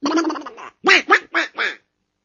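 A duck quack sound effect: a buzzy, drawn-out nasal call followed by four short, distinct quacks in quick succession, loud and close with nothing else behind them.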